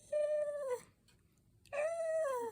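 A dog whines twice in long, drawn-out, high-pitched tones with a quiet pause between them, close by.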